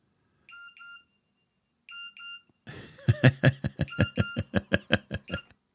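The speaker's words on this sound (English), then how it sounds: "You can change the message tone." A short two-part electronic message tone from a Nokia 3100 phone plays twice with a pause between, followed by a bright rapid melodic ringtone pulsing in quick notes.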